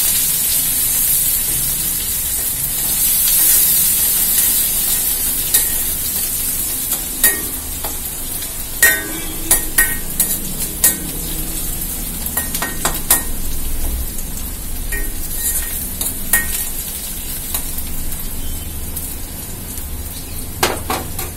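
Small onions fry and sauté in a pan for a horse gram kuzhambu, a steady loud sizzle broken by clinks and scrapes of a spoon stirring against the metal, close up with no talk.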